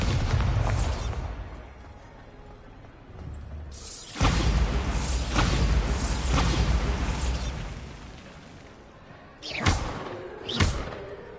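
Spell blasts from a Bombarda explosion in the game Hogwarts Legacy: heavy booming thuds with a low rumble, a big burst midway and two sharper bangs near the end.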